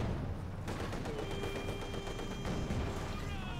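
Infantry gunfire in the World War II strategy game Company of Heroes 2 as Soviet guards and conscripts attack, steady crackling rifle and machine-gun fire under a continuous battle din, with a faint whistling tone drifting through.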